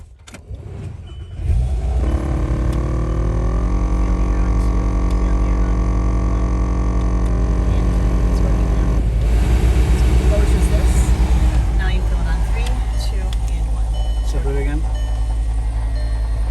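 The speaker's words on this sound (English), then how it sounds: "When she turns on the vehicle, if everything's fine, we'll take a look at the actual console." A 2006 VW Jetta engine starts and settles into a loud, steady idle with a deep constant hum and a whirring blower fan, close by and continuous, with a brief rise in roar partway through.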